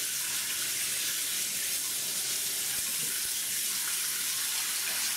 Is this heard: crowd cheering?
no